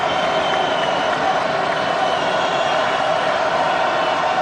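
Steady, dense crowd roar fills an arena at an NCAA college basketball game between Arizona and Arizona State as a player steps to the line for a free throw, loud and unbroken throughout.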